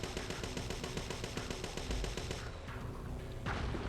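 Rapid, evenly spaced gunfire from the PS1 game Parasite Eve II, a steady stream of quiet shots that is faint and fairly dense, running the whole length with no talking.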